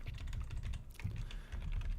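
Soft, rapid tapping on a computer keyboard as a title is typed, faint and close, in a steady patter with no talking.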